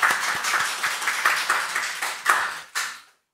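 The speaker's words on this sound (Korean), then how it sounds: "우리 박수 한번 하겠습니다" A church congregation claps during a Sunday worship service, a quick run of separate claps that thins into a few final ones before stopping abruptly.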